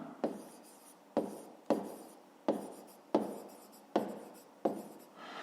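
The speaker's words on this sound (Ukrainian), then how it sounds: "Записуємо в дужках чого." A pen writes numbers in a fifth-grade maths exercise, making seven short scratchy strokes at a steady pace, close and quiet, with no voice.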